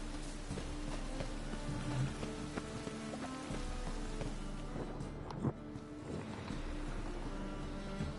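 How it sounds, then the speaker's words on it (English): Rain falls steadily in the fantasy role-playing game The Witcher 3: Wild Hunt, a soft, continuous patter heard alone at a low, even level. "Looks like rain."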